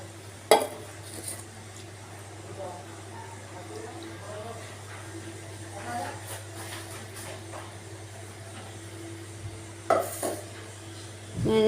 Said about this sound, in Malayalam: ഇത്തിരി വെള്ളം ഇതിലേക്ക് ചേർത്ത് ഒന്ന് നന്നായി ഇളക്കുക